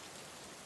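Steady rain pours down in a continuous, even hiss, a heavy downpour at night, with no voices and no gaps.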